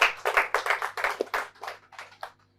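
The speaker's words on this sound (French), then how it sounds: "on applaudit pour ça quand même" Clapping from an audience at a Saturday music show, a short burst of distinct hand claps in uneven rhythm that thins out and fades toward the end.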